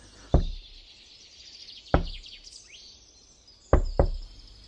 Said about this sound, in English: We could hear a sound knocking on that big wooden door